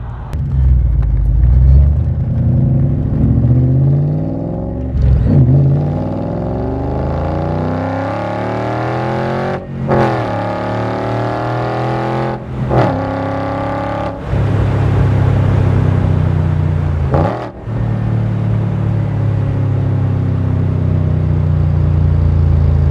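A Coyote-powered Backdraft Cobra accelerates hard through several rising gear pulls, its loud engine note climbing and dropping at each shift, close and alone with no talk.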